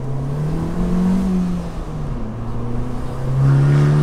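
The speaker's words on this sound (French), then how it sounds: "profiter de la sonorité de cette Abarth" A 180 hp Abarth 595 Competizione engine pulls hard uphill, heard from inside the cabin, its tone rising and falling with gear changes and swelling louder near the end.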